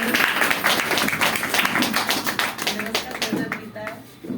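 A seminar audience gives loud, sustained applause, dense clapping filling the whole stretch with steady intensity while a voice carries over it.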